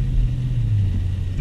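A 2020 Dodge Challenger Scat Pack 1320 drives through heavy rain in Dallas, a steady low engine and road rumble from inside the car over a short moment.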